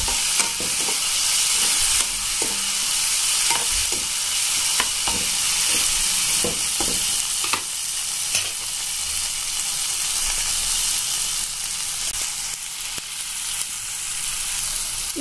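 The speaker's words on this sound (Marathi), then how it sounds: "आता मी त्याच्यामध्ये टमाटर पण ऍड केलेला आहे, हे पण छान प्रकारे फ्राय होऊ द्यायचं" Chopped tomatoes frying in a pan for paneer bhurji give a loud, steady sizzle up close, broken by repeated scraping clicks of a spoon stirring through the mix.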